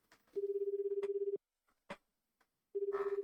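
Cell phone ringback heard on a call: a steady electronic tone pulsing for about a second, a pause with faint clicks, then the tone starting again, clean and isolated.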